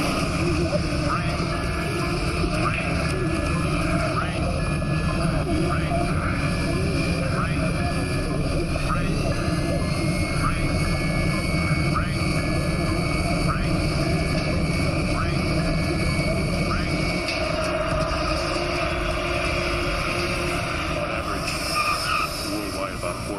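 Airplane engines roar in a loud, steady drone during an emergency landing through an ash cloud in a disaster film, with a dense rumble throughout and voices speaking over it.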